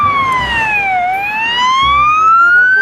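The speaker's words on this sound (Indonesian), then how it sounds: "yang selanjutnya ada mobil ambulan" A toy ambulance siren wails alone and loud, its electronic tone sliding down and then climbing back up in a smooth sweep.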